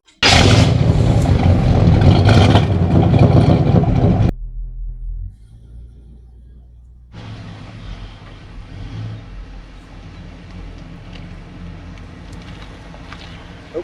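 A 1970 Pontiac GTO on a test drive: a loud, full roar for the first few seconds, a brief quieter lull, then a steadier, moderate engine and road rumble as the car carries on.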